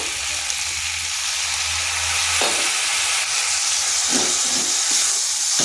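Ground turmeric, cumin, coriander and chilli powder sizzle steadily in a pan after a splash of water, a loud continuous hiss with a few soft stirring scrapes and no talking.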